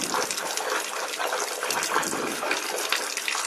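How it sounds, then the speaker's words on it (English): Water gushing and spraying from a makeup brush with a hole in it, a steady rushing squirt of clean water, close and continuous without talk. "As you can see, it's still squirting water."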